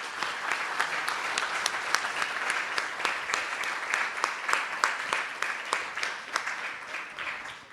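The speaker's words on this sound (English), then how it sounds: "If we could please give them a round of applause" Steady applause from a panel discussion audience, dense continuous clapping with many hands at an even, sustained loudness throughout, no voices standing out.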